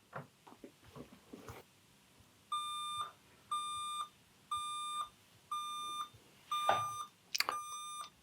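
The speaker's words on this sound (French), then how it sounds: "l'ordinateur s'est réveillé tout seul à l'heure qu'on lui a définie pour l'alarme" A Canon X-07 computer's alarm sounds six evenly spaced, clear electronic beeps, each lasting about half a second, after a few soft handling clicks and taps.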